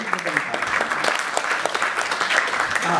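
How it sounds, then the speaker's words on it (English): At an award ceremony celebrating Vivekananda, an audience gives a short round of applause, a burst of close, uneven hand clapping across the room. "Can I please ask Madan Bhai to stand up so you can give a round of applause to Madan Bhai, please."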